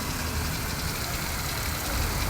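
A Ford Territory's engine running after a cold start, a steady, dense rumbling drone heard close and continuous, with no talk over it.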